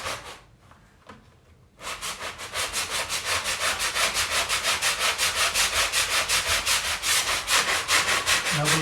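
Hand sanding of Bondo filler on a badly rotted bathroom window sill high up, heard as steady, rhythmic back-and-forth rasping strokes up close after a brief quiet start.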